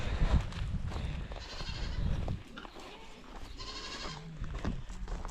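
Goats bleat on a small goat-rearing farm in a dry region: several wavering bleats come through at moderate distance over rustling and outdoor background noise.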